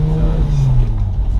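A Mercedes C300 with a six-speed manual and a muffler delete gives a steady, close, low engine rumble that climbs slightly in pitch as it pulls through first gear.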